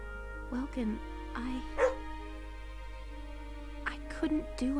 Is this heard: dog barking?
yes